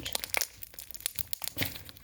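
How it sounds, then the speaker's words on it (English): Slime crunches and crackles as it is squeezed by hand, a close, quiet run of irregular crinkly pops lasting a couple of seconds. "Look at this crunch."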